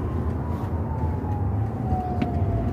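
Emergency vehicle siren in a Kenyan street, a steady tone sliding slowly downward over continuous traffic rumble, heard from some distance throughout.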